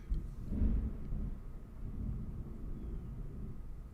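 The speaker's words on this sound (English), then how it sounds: "Can you guys hear the thunder or no?" Distant thunder outside during a storm: one low, soft rumble swells early and then fades into a faint, steady background murmur, with no talking.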